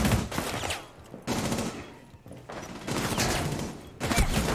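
Rapid automatic gunfire in Rainbow Six Siege comes in dense, loud bursts separated by short pauses, with fast rattling shots filling the clip and no talk over it.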